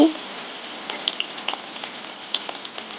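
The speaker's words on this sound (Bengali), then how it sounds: "এখন পেঁয়াজ কুচি দিয়ে দিচ্ছি" Chopped onion sizzles in hot oil in a kadai, a thin steady crackle with scattered sharp pops throughout.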